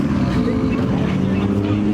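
At a car meet, a car's loud exhaust roars close by in a sustained, heavy, low rumble, with voices talking over it.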